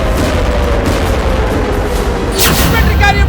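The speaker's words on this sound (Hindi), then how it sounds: "एक और आर्टिलरी गन फायर की गई" Artillery guns firing near Gaza amid an Israeli military advance, a dense, continuous rumble of distant booms with a sharper burst of blasts toward the end, loud throughout.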